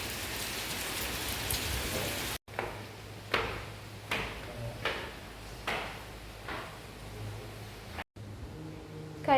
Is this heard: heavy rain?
yes